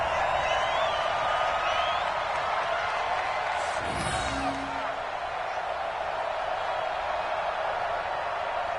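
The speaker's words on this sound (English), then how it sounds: "And this crowd loves it as their guys hold on the opening drive." Stadium crowd at a Bears vs Giants football video game, a steady broad roar of cheering that holds loud and even throughout, with a brief swell midway.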